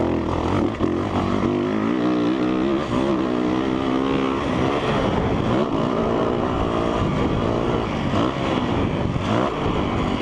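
A 2017 Yamaha YZ450F dirt bike engine roars loudly and continuously while riding, its pitch rising and falling steadily as the throttle opens and closes, close to the rider.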